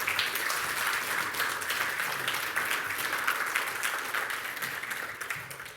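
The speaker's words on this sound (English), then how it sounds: "Give her a round of applause." An audience at a talk breaks into steady applause, dense continuous clapping from many hands sustained for several seconds without voices.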